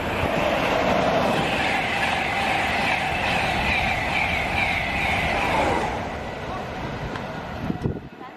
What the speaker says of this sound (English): That's a DB Schenker loco.